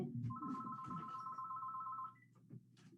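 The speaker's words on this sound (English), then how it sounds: "The house phone started ringing right away." A house telephone rings with a sustained electronic tone for about two seconds, fairly loud over a quiet room, then cuts off, followed by a brief faint chirp and soft room noise.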